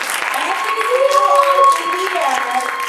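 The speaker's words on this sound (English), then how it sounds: "We need to clap it up together." An audience at a book launch claps together in sustained, even applause, close and full, with a voice speaking over part of it.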